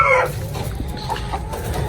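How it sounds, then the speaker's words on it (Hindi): Chickens cluck briefly in a rooftop poultry setup in Faisalabad, a flock of six hens and one rooster, with a few short, soft clucks over low background noise. "ये मेरा 6 मुर्गियाँ और 1 मुर्गा है।"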